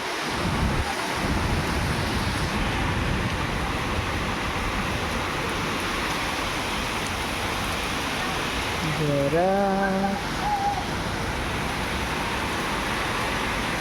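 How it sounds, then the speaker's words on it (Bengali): A heavy storm brings a constant roar of wind and rain with strong microphone buffeting throughout, and a voice briefly rises above the noise near the end. "এখন হাওয়াটা একটু থেমেছে বাট ঝড় হচ্ছে প্রচুর"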